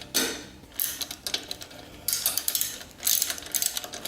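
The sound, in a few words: bolting fork slider cover on with ratchet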